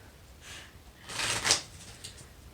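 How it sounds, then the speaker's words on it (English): A deck of playing cards is shuffled during a school talent show magic act, a soft riffle building to a louder ruffling burst midway, then fading to quiet rustles, close and alone. "Maybe shuffle again."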